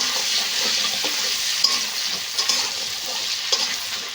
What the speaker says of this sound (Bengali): পেঁয়াজটা একটু বেশ ভালো করে ভাজা হয়ে যাবে